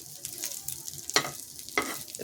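An omelette egg fries in a pan over low gas, a soft close sizzle broken by a few sharp scraping strokes of a spatula; no one speaks.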